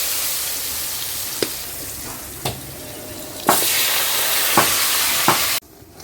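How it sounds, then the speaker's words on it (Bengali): Potatoes fry in hot oil for a Bengali rohu fish curry, a loud steady sizzle close by, punctuated by several sharp clicks of stirring, before the hiss drops suddenly. "আলুটা আমি ভেজে নেব এবার"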